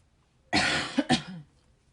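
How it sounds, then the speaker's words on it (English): A woman with the flu lets out a short burst of harsh coughs, two or three quick hacks close to the microphone, followed by silence. "Sorry about the coughing."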